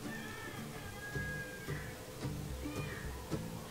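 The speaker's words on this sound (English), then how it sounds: "He's just a kitten, really." A kitten meows a few times in a shelter setting, short high calls rising above a busy background hum with low rumbling noise underneath.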